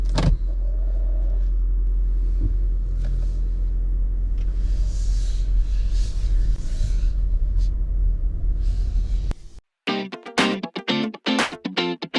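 A hybrid car pulls away, a steady low engine and road rumble running loud and continuous for most of the stretch before cutting off near the end, followed by a few sharp interior clicks and knocks.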